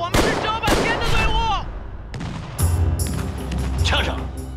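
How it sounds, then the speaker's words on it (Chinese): Gunfire erupts as bandits storm a mountain fortress in a period drama: several sharp, loud bursts crack out over a busy scene, mixed with shouting voices and people talking. "是，明明是枪声嘛！"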